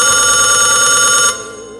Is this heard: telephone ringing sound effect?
yes